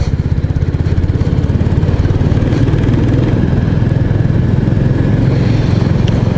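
A Royal Enfield 350 Bullet motorcycle engine from 2024 chugs steadily at low revs, a loud, close, evenly pulsing single-cylinder thump with mechanical clatter that holds a constant rhythm throughout.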